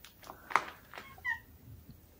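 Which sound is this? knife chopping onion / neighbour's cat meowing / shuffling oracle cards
neighbour's cat meowing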